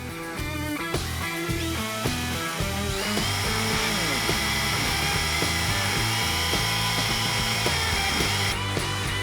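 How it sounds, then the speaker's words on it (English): A power drill whines loudly and continuously, its pitch rising and shifting as it bores a 1/4 inch pilot hole while installing a roof rack on a Ford F-150. "now we're gonna get set up and start drilling our holes"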